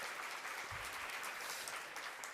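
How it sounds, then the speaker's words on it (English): Conference audience applauding, a short burst of many hands clapping heard faintly and at a distance. "can we get a huge round of applause for the organizers of this conference?"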